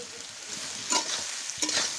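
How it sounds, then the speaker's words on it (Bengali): Soybean chunks frying in hot oil in a wok, a steady close sizzle with two louder bursts of crackle as the pieces are stirred and tossed. "এবার কড়াইতে তেল দিয়ে আমি সয়াবিনগুলো এই কড়াইতে দিয়ে ভালো করে ভেজে নেব।"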